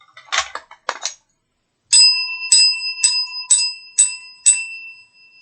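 A few scraping handling noises come first, then a bell is struck six times at a steady pace, each ring bright and metallic with a short lingering tone, close and alone.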